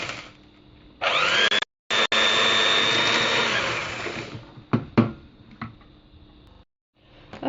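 Electric hand mixer or blender whirring as sugar, flour and eggs are mixed for an apple pie batter, a loud steady motor run of about three seconds broken by brief cutoffs, then a few clatters and knocks.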